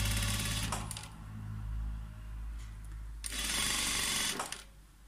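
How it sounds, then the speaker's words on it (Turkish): An overlock sewing machine stitching bias binding onto a garment, running in two sustained whirring bursts with a steady mechanical hum, close and loud, slowing between the runs, with no talking. "overlock dikişini arka tarafa doğru yatırarak biyemi dikiyorum"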